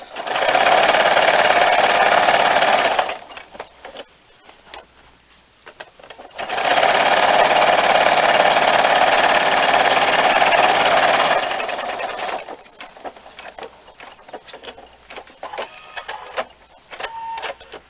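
A sewing machine stitches binding onto a quilt in two long steady runs of loud, continuous whirring, separated and followed by quieter stretches of handling and small clicks.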